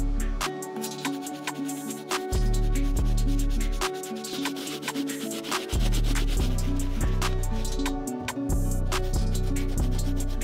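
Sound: medium bristle brush scrubbing plastic on Nike Air Force 2 sneakers

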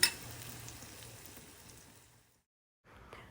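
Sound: grated mango ginger chutney frying in oil

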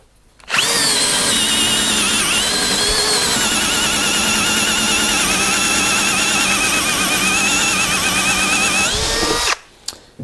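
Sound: Bosch GSR 12V-35 cordless drill driver running

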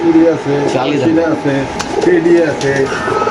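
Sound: Pakistani pigeons at a pigeon market

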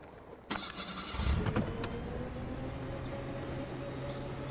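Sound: bus engine straining in the video game Bus World

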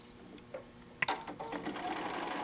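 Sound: sewing machine sewing quilt pieces

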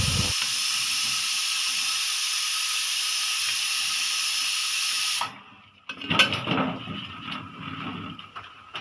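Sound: pressure cooker whistling steam

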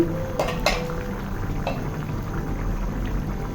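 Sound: lid lifted off pot of pumpkin curry

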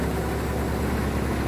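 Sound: New Holland 3630 tractor engine running

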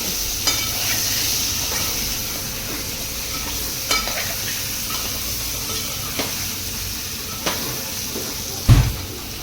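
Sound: potatoes and vegetables cooking covered in a pan

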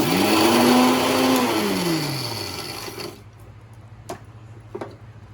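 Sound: mixer grinder grinding edible gum for fenugreek laddoos

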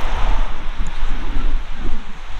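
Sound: wind at the beach

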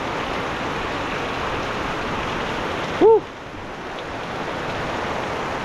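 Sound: heavy rain falling

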